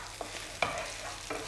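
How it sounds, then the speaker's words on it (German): Onions frying in about two tablespoons of hot oil in a pan, with a steady close sizzle and a few sharp stirring scrapes. "So, die Zwiebeln brutzeln so ungefähr 2, 3 Minütchen"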